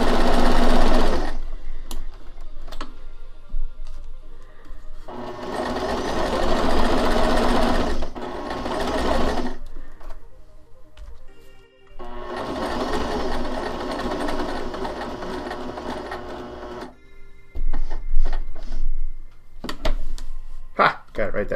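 A home sewing machine runs in two long, loud bursts while stitching a zipper pouch, with quieter gaps between where a person talks and handles the fabric.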